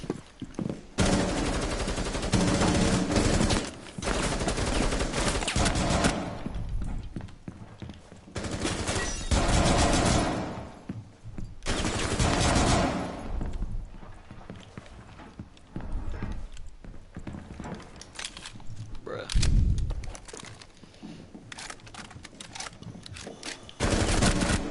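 Gunfire in the video game Call of Duty sounds as loud, dense automatic bursts and shots that return in waves over game noise. Heavy volleys break out again and again with short, quieter gaps between them.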